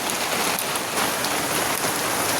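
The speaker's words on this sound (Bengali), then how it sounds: "খুব বড় বড় ফোঁটা পড়ছে" Heavy rain of large drops pelting down as a hailstorm begins after several hot days, a dense, steady roar of impacts holding at an even loudness throughout, with no voices.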